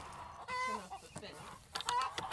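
Laying hens clucking on a farm with rotational grazing and perennial pasture, near a long high tunnel; a few soft clucks and cackles come and go at moderate loudness amid faint background sounds.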